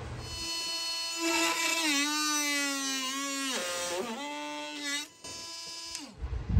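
A 12-volt brushless oscillating multi-tool runs at its top speed setting of 10 while cutting, giving a loud, steady, close-up buzzing whine whose pitch sags and wavers as the blade bites, then briefly stops and revs again near the end.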